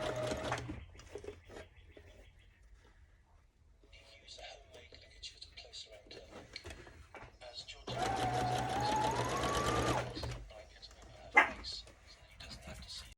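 A sewing machine stitches a tiny hem on a prom dress in short quiet bursts, then one longer steady run, with soft whispered talk and faint background noises between.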